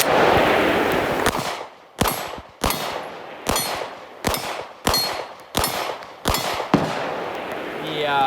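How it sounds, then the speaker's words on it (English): Sharp pistol shots from a Glock 45 fired outdoors in nasty weather, about eight loud reports spaced roughly half a second apart, each with a short ringing tail, following an opening stretch of wind or rain noise. "Let's keep shooting."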